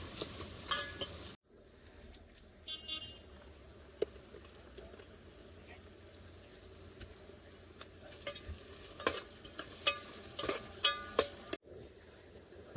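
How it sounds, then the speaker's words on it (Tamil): Onions sauté in a pan with a quiet, low sizzle under intermittent spatula stirs and scraping clinks, which grow busier in the second half, with two brief dropouts. "வெங்காயம் வதக்கியாச்சு"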